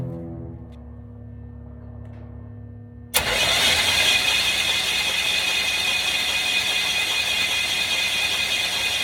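A 1965 Cadillac hearse engine cranks to clear its cylinders: after a near-silent start, a loud, steady mechanical churning bursts in abruptly and runs unbroken to the end, close by.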